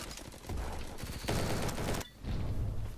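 Rapid bursts of automatic gunfire in the Roblox shooter Bad Business, dense and loud, with a brief gap before the shooting resumes, no talk.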